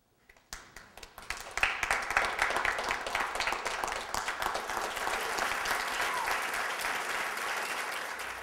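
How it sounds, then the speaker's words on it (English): Audience applause from a seated crowd at a staged mentalism demonstration, starting abruptly and building into sustained, dense clapping that stays loud and steady throughout. "please stand up to wild applause"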